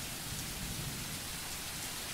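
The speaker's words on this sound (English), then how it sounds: "The rain is still pelting down" Heavy rain pelts down steadily in the horror game Seven Bloody Nights, a dense, even hiss of drops that fills the whole stretch with no other sound.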